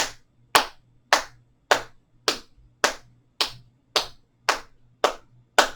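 Eleven sharp hand claps land in an even, steady rhythm about half a second apart during a seated chair tai chi and yoga session, crisp and close with no voices.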